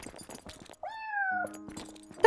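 A single drawn-out cat meow from the video game Yonder: The Cloud Catcher Chronicles, clear and fairly close, set among soft game ambience and small clicks.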